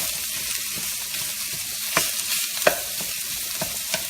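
Italian sausage frying in a pan, a steady soft sizzle with a few sharper crackles and light clinks from stirring, close and moderately loud, with no voices.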